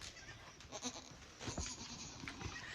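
Goats bleat on a farm in several short, fairly faint calls scattered over a steady outdoor background, with no one talking.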